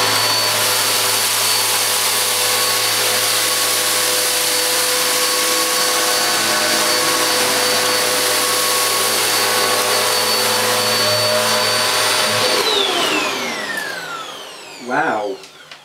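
A Goblin bagless upright vacuum cleaner runs loud and steady on a kitchen floor, a constant whining roar that winds down with a falling pitch near the end.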